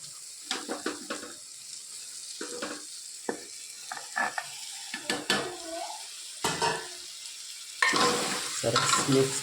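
Chopped ridge gourd fries in a pan with ajwain tempering, as a spoon stirs it in repeated scraping strokes over a soft sizzle, with short clinks of utensil against metal and a brief burst of running water near the end.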